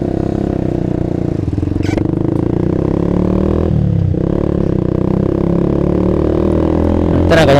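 A 2014 Yamaha R15 V2 motorcycle engine running while riding, a smooth, steady, loud drone with slight shifts in pitch and a couple of brief rattles.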